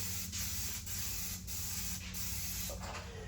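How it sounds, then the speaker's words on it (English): Continuous hissing spray from an aerosol can of trim adhesive onto foam, loud and close, with a few brief pauses in the stream. "I'm taking the general trim adhesive and we're spraying the foam."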